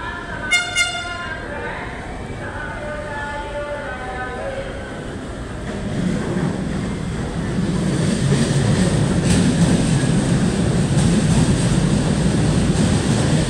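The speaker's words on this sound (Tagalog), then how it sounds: "parating na ang ating LRT" A light-rail LRT train arrives at Monumento station, its horn tooting in harmonic bursts before a low rumbling roar of wheels and motors builds and holds steady as it pulls in.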